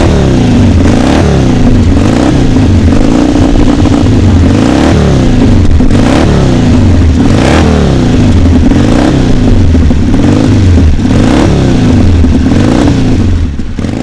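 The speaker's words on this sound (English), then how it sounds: "let's now have a listen to the Rickman Triumph." A Rickman Triumph classic dirt bike engine revs loud and close, its throbbing exhaust rising and falling in steady repeated surges with a rough mechanical clatter throughout.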